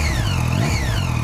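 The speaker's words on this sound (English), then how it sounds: "so let me give it a good rev" A 2013 Triumph Street Triple motorcycle engine, already warm, is revved hard up close, its pitch rising and then falling in one loud, continuous blip.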